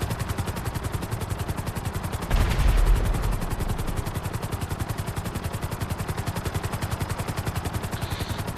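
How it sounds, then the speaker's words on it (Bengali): Steady rapid rotor thumping of a helicopter, close and loud throughout, with a brief louder rumbling burst a little after two seconds. "আল্লাহ, হেলিকপ্টার একটা নিয়েছি ভাই, ও আন্দা গন্দা চলতেছে।"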